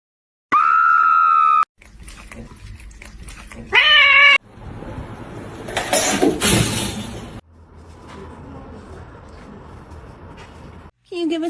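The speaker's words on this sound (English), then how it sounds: "Can you give a squeak meow, Ash?" A house cat meows in several clear, loud squeaky calls, mixed with bursts of other noise and people talking nearby.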